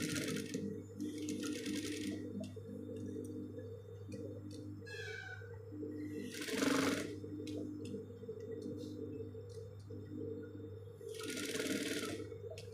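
A hand-turned sewing machine stitches a T-shirt, giving a few short bursts of mechanical clatter over a steady low hum. The sound is moderately close and there is no talk.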